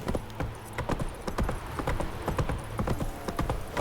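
Roach, a horse in The Witcher 3, clip-clops along with a brisk, irregular rhythm of sharp hoof strikes, close and loud, continuing throughout.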